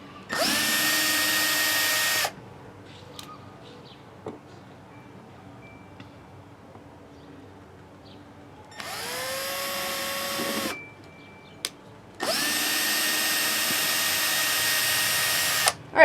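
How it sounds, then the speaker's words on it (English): A power drill whirs in three bursts, spinning up and boring pilot holes into wood, with quiet pauses and small clicks between them. "now that we've drilled our pilot holes"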